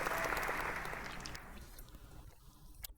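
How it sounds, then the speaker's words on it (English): A short round of applause on a gaming chat show opens loud and full, then thins and fades away, leaving a few scattered claps near the end. "Round of applause."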